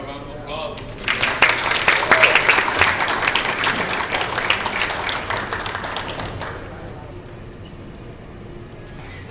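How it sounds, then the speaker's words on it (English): An audience at a 1 Million Cups entrepreneur pitch event breaks into loud, full applause that swells, holds for several seconds, then fades into a quiet room with faint voices. "let's give Darnell a round of applause."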